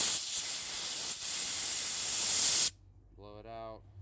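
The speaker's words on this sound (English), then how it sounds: "we've got our air compressor. And all I'm gonna do is put the nozzle" Compressed air blasting from an air compressor nozzle through a sponge filter outdoors at a lily pond, a loud steady hiss lasting over two seconds before stopping abruptly, followed by a brief voice.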